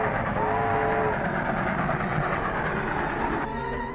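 Train running on rails in a 1944 film serial, a steady loud rumble with rattling wheels and a faint sustained whistle-like tone early on, continuous with no talk.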